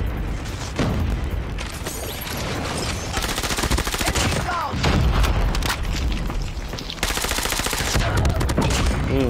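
Bursts of OTs-9 submachine gun fire in Call of Duty Mobile, loud rapid volleys with short pauses between them, someone speaking over the shooting.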